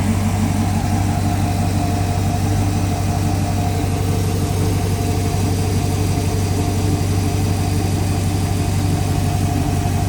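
V-drive boat engine running on a bucket-and-hose water supply, a loud, steady, close idle with a constant low rumble throughout and no talk.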